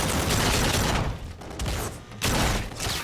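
Dense rapid gunfire in the first-person shooter Infinite Warfare, loud continuous automatic bursts broken by two short pauses, with mechanical clatter in between.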